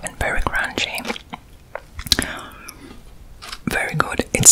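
Thick, crunchy Peruvian purple potato chips are bitten and chewed up close, sharp crisp crunches in irregular clusters between soft whispered speech.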